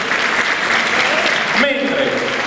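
Loud applause from the audience at a Miss Italia Veneto regional beauty pageant, a dense wash of clapping for the contestants with a voice over the top and a brief sustained tone near the end.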